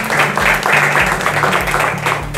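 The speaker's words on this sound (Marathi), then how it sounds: "तरी मित्रांनो, जोरदार टाळ्या होऊन जाऊ द्या आमच्या दोन्ही स्पॉन्सरसाठी" Loud applause from an audience at a live quiz show in Amravati, close and dense, with a rhythmic musical beat pulsing underneath.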